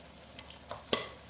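Chickpeas stirred and roasted in spices for a Lahori chole, a few soft scraping strokes and brief dry crackles against a quiet background.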